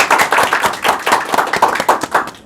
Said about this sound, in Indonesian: Tepuknya mana dong?